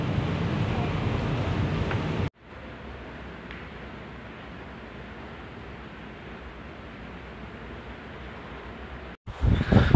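Typhoon wind and rain in Catanduanes, heard as a loud rushing roar at first, then a steadier broadband downpour hiss, which is cut off briefly before a harsher gust of noise returns at the end.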